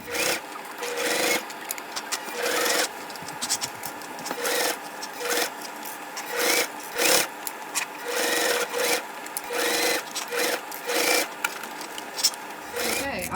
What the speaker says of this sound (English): So I'm going to start from the bottom and we're gonna sew around.